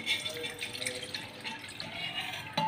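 Water poured from a vessel for making tea, with a light, trickling splash that runs for a couple of seconds at low volume before a brief louder clatter at the end.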